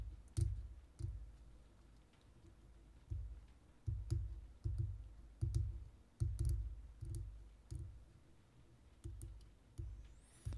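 Tamiya side cutters snipping plastic parts off a model Corvair kit, a series of close, sharp clicks and snaps that repeat irregularly, each one followed by a brief rattle.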